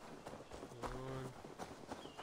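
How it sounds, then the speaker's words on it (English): A horse trotting in Assassin's Creed Valhalla, a quick run of hoofbeats close by over game ambience, without speech. "The horse is pretty fast, even though it's literally trotting."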